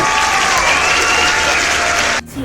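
Applause added in editing, a dense burst of many hands clapping, loud and even, cutting off abruptly near the end.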